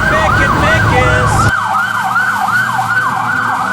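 Loud fire engine siren in a children's cartoon sweeps up and down in a regular wail; a rumbling engine bed under it drops away partway through, leaving the siren clear and close.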